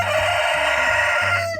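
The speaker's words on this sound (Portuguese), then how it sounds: "Galinha balão." Chickens from a mixed flock of crossbred Plymouth Rock barred, balão and naked-neck birds cluck and call loudly and close in a short, dense burst of overlapping voices.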